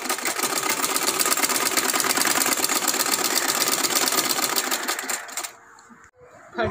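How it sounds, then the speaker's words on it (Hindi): A sewing machine stitches fabric strips that were folded over with an iron, running in a loud, fast, steady mechanical chatter for about five seconds before stopping abruptly, with faint handling noises afterward. "अब मैं सिलाइयाँ लगाती हूँ। इस तरह से मैं सिलाई लगाऊंगी।"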